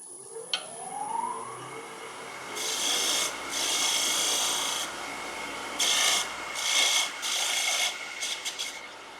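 Woodturning tool scraping detail lines into a spinning wooden spurtle handle on a lathe, a harsh raspy cut in several bursts over the steady hum of the machine, close and fairly loud.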